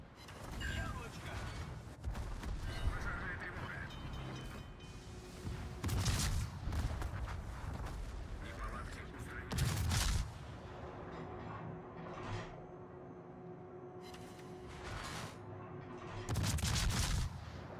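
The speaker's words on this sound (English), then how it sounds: "Guess we'll just shoot with these." Warship guns fire in repeated heavy booming salvos during a World of Warships naval battle, loud blasts spaced several seconds apart over mechanical clanks and a busy game background.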